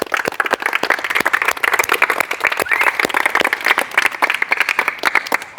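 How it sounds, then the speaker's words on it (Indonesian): A class of students claps their hands together at the close of a school lesson, a dense, steady patter of many overlapping claps that is loud and sustained throughout, with no talking over it. "kita tepuk tangan dulu semua."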